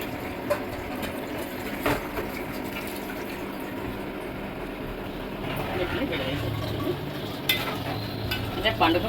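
Tamarind juice being stirred into a large pan of pandugappa fish curry with methi leaves, a steady wet swishing and clinking running throughout with a few sharper knocks, close by and moderately loud, with speech over parts of it.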